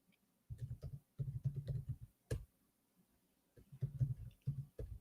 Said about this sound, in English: We're just gonna start typing in teams now.